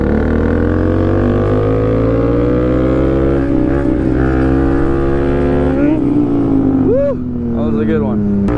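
A Honda Grom minibike rides past close by, its revving engine whine rising and falling through gear changes before easing off, with people talking over it.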